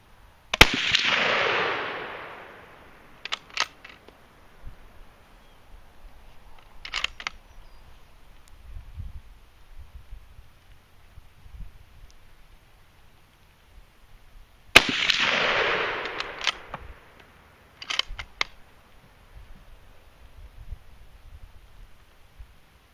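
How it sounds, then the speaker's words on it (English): Reloaded cartridges with remade primers fire over a chronograph as two sharp, loud gunshots about fourteen seconds apart, each followed by a decaying echo and small handling clicks. "All right, here we go, number 2."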